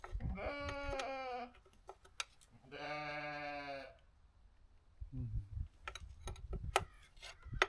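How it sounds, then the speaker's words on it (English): Two loud, drawn-out sheep bleats sound close by, one after another with a short gap, followed by quieter rustling and small ticking noises near a Ford F350 7.3 Powerstroke dually under engine repair. "Silly sheep."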